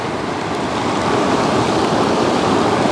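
Floodwater surges at night in Bằng Lằng, a constant loud rushing roar like a torrent, steady and unbroken with no voices over it.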